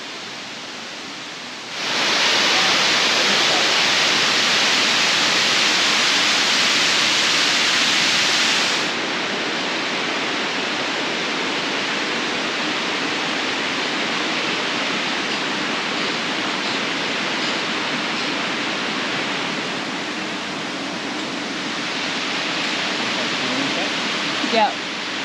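Waterfall on the Ring River in Tasmania, a loud, steady rushing roar of falling water that surges up early, then holds as a dense continuous wash close by.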